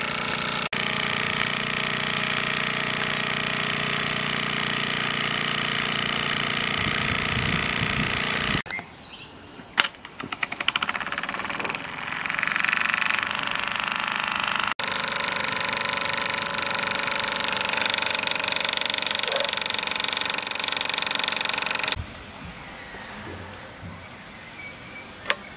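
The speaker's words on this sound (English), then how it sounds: "let's see if we've got enough steam to run the engine." Meccano MEC1 toy steam engine running on Mamod liquid fuel gel, giving a steady mechanical whirr and hiss that is interrupted by short gaps and then resumes. It is fairly loud and close, with no talking.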